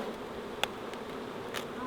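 Wild bees buzz steadily around a nest in a lavender bush at a kindergarten, a constant insect drone with a few faint passing flybys.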